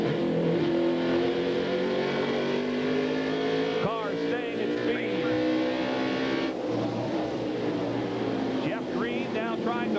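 Stock cars roar around the track at the 2000 NBS Myrtle Beach 250 with engines droning and rising in pitch as they pass, under steady race commentary.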